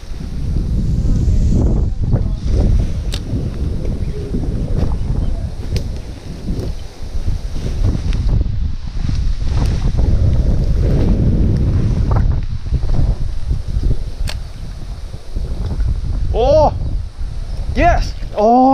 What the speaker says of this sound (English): it's pretty windy, dude